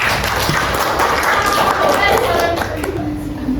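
Students in an Indonesian classroom clap together after a group presentation closes, a steady, dense applause that fills the room, with some voices mixed in.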